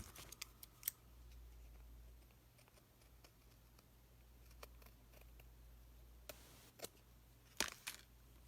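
Scissors trim paper while a tag book is being made, a faint series of quick snips and small clicks, spaced irregularly over quiet room tone with a soft low hum.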